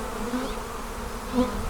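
Dense, steady buzzing of a honey bee swarm close by, droning continuously with a couple of louder passes.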